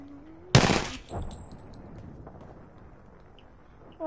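A single sharp burst of Apex Legends gunfire cracks out loud and close, then decays into a short tail and quiet game ambience.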